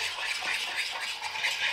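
Quick, continuous whisking of eggs for an omelette, a soft, steady scraping and swishing in a pan or bowl, close and fairly quiet, with no voices.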